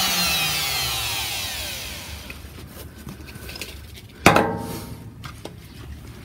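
A wood router cutting a round-over edge in a board whines down as it winds to a stop, followed by a single sharp knock and some faint handling clatter.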